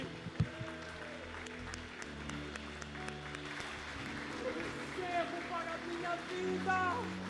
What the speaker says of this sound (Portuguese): aplaude o seu poderoso nome